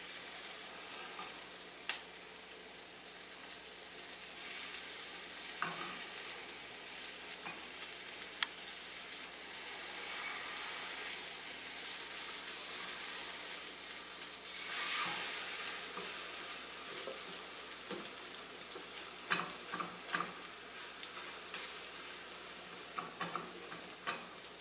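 Egg foo yung sizzles steadily in a hot pan, with a continuous crackling hiss that swells at moments as a spatula scrapes and turns it; no voices.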